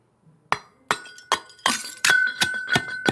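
Glass bottle pieces dropped into a crucible charge for making wootz steel, giving a series of about seven sharp, bright clinks and cracks in fairly steady succession, close and clear with no talking.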